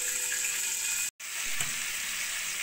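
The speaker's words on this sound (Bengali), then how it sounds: "এবার আমি বেগুনগুলোকে ভেজে নেব।" Aubergine pieces frying in oil in a covered pan, a steady soft sizzle with a brief dropout partway through, then the hiss resumes.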